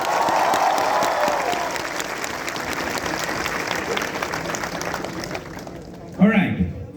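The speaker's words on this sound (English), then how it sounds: "We need to have a big round of applause for this day." An audience at a BRAC University event applauds loudly and steadily, the clapping slowly thinning before a voice breaks in near the end.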